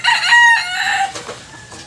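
Chickens cluck and a rooster crows close by, a drawn-out harmonic crow followed by shorter clucks, loud and clear with no talk over it.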